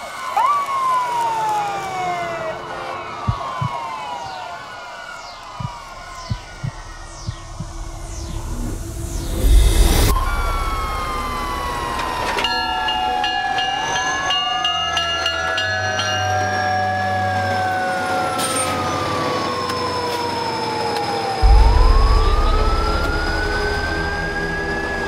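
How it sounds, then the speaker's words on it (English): Several emergency vehicle sirens, an ambulance and a fire truck, wail and sweep in pitch as they approach, growing louder with engine and traffic rumble beneath, with sharp bursts near the end. "ambulance and fire are on their way."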